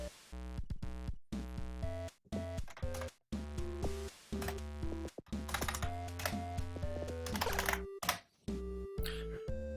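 Computer keyboard keys pressed while playing the 2008 platform game Jumper 3, a rapid irregular clatter of clicks mixed in with loud, steady game music and sound effects throughout.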